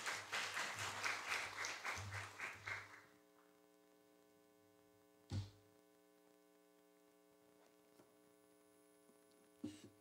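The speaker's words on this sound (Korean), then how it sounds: "장로님 나오실 때 박수로 맞아주시기 바랍니다." Congregation at an early-morning church service clapping to welcome an elder to the pulpit, a few seconds of rhythmic applause that quickly fades, leaving a steady electrical hum with a couple of isolated knocks.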